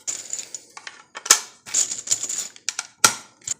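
150 grain soft point 300 Blackout rounds are pressed one by one into a rifle magazine, giving a series of sharp metallic clicks and snaps at irregular intervals, close and clear with no talking.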